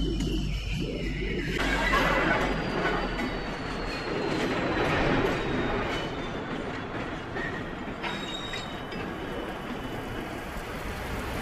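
A train runs steadily along the rails with a continuous loud rumble and rhythmic clickety-clack, with faint wheel squeals, heard alone as a sound effect.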